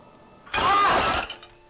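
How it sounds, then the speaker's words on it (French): A motorcycle engine starting in a Pokémon anime episode: a single loud, close burst of engine roar lasting under a second, then cutting back to quiet. "Bon, elle embarque Sacha en moto"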